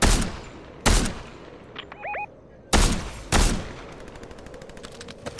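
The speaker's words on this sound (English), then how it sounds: "The guy's shooting behind you" Gunfire in Fortnite, with several sharp, loud shots in separate bursts and some lighter rapid shots toward the end, plus a brief synthetic chirping effect between them; no voices.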